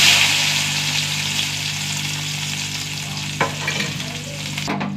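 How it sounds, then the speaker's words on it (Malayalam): Mustard seeds, crushed garlic and shallots fry in hot coconut oil with a steady, close sizzle, and a couple of brief knocks and stirs come through near the end. "കുറച്ച് കടുകിട്ട് കൊടുക്കാം. 4 അല്ലി വെളുത്തുള്ളി ചതച്ചത്, കുറച്ച് ചെറിയ ഉള്ളി,"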